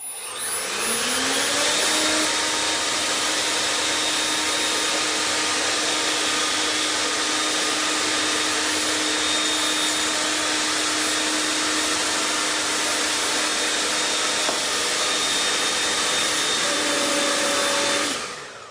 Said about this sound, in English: I'm going to take my blower